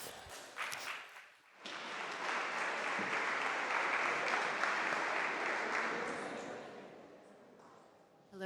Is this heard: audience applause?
yes